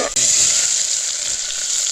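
Onion tempering sizzling hard in a pan on a wood-fired village stove, a loud, dense, continuous frying hiss after a brief clatter at the start.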